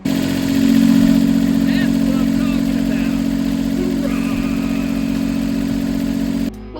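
A diesel engine on a boat starts after a fuel line repair and runs steadily nearby, with a loud, even chugging drone that stops abruptly near the end, while someone talks briefly over it.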